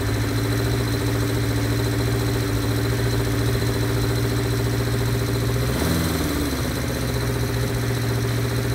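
A vintage Honda CB350F four-cylinder motorcycle idles steadily and close by with a constant buzzing hum, its revs dipping briefly near the end before settling back.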